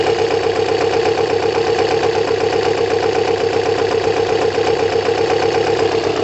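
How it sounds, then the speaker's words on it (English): A Kawasaki ZL600 cruiser motorcycle engine idles close by for several seconds, an even, continuous rumble with a fine rapid pulse and no other sounds. "You can just hear the engine."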